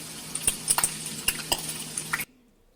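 Bacon frying in a pan gives a close, steady crackle with a scatter of sharp pops and small scrapes of a fork against the pan, ending abruptly after about two seconds.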